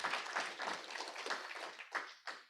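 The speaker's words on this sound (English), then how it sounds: "I think it's worth clapping too." A small audience claps for a few seconds, a moderately quiet, even patter of hands that thins out near the end.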